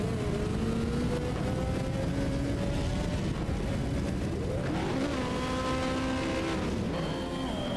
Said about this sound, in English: 35 car, we're about to watch go up the hill right now.